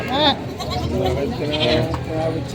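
Goats bleat loudly at close range, one sharp cry standing out early, over a busy background of voices and chatter at a goat market in Padre Garcia, Batangas.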